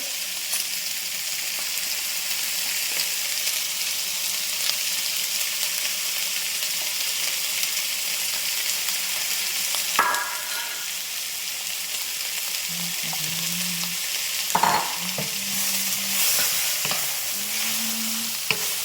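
Mushrooms and ginger stir-fried in a hot pan for vegetable lo mein, giving a constant loud sizzle with occasional stirring clinks and scrapes, no talk.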